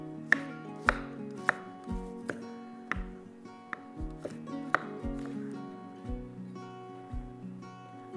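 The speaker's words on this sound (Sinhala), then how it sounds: "පොඩියට ස්ලයිස් කරගමු. ඒත් අපිට චොප් කරන්න ලේසි." Garlic being chopped with a knife on a board, a steady series of sharp, close taps at roughly half-second intervals with faint clatter between strokes and no talking.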